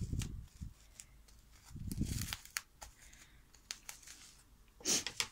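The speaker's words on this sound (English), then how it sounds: "Put that wrapping foil over it" Cling film wrapping foil is laid over printed images on fabric, producing close, intermittent crinkling and rustling with a few soft taps and a brighter crinkle near the end.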